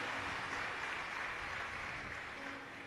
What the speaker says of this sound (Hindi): ताली बजाकर साधुवाद